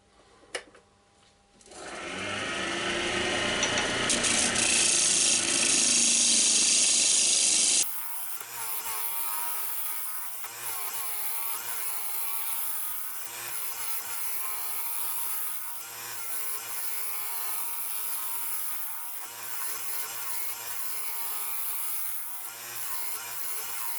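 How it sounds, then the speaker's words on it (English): A roughing gouge cuts wood on a lathe, giving a steady, loud, dense scraping hiss that runs almost the whole time after a brief quiet start, with slight rhythmic variation from each pass. "I'm nearly finished with the roughing out gouge now."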